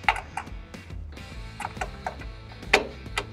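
Bolt being removed with a key on a Keestrack R3H crusher, a series of close metallic clicks and ratcheting ticks at an uneven rhythm with no talk.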